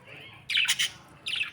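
A pet parrot and pigeon call in short bursts, with a bright squawk of several quick notes followed after a pause by another shorter squawk, close and fairly loud over quiet background.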